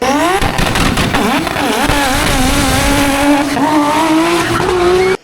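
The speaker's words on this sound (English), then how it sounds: "do burnouts, do pops and bangs" Cars at a hillclimb street parade roar loudly with continuous engine revving and rising, sustained tire squeal from burnouts, close and dense throughout without pause.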